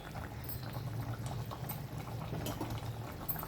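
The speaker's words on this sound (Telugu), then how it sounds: "మంచిగా మరిగిపోయిందండి" A pot of tamarind stew with taro boils steadily, producing a soft continuous bubbling and simmering with a low hum underneath, fairly quiet and close, with no voices.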